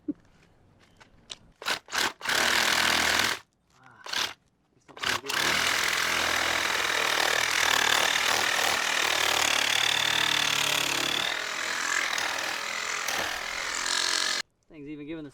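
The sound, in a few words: power tool cutting open a coconut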